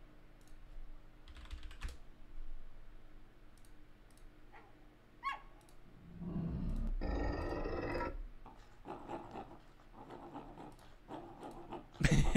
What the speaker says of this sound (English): That's a dog pulling at a rope is what that is